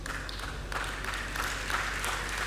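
An audience at a Jain religious sermon claps together, a steady dense patter of many hands that holds evenly throughout without any voices.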